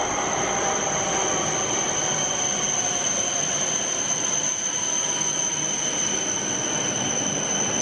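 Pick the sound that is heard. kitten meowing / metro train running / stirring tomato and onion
metro train running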